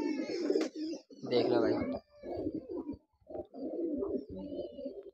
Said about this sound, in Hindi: भाई एक कबूतर आ चुका है, एक और आ रहा है